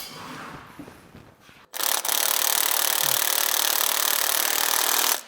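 A power tool runs steadily for about three seconds after a short quieter stretch, likely an impact wrench turned down to low torque driving small 5/16 carriage bolts on a John Deere disc drill depth adjuster pivot.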